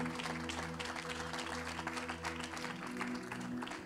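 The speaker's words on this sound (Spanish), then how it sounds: "Denle un aplauso al Rey de Gloria" A church congregation claps for the King of Glory during a service, steady applause over a sustained organ or keyboard chord, faint and continuous.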